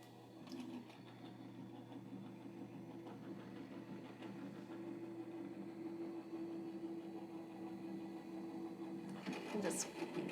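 A tabletop craft machine feeding a sheet through its rollers, giving a low, steady mechanical whir and hum that runs close and even, with a brief clatter near the end as it finishes.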